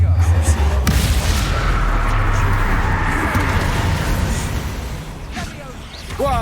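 Confringo blast spell explosions in the video game Hogwarts Legacy, a loud booming burst that rolls into a dense crackling rumble, fading slightly before another impact near the end.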